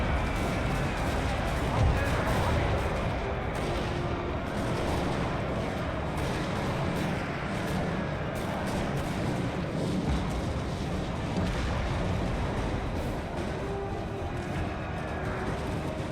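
Cannon fire and battle din from a Napoleonic-era Total War battle, a dense continuous rumble of artillery booms and musketry with distant crowd-like roar, steady and loud throughout with no clear gaps.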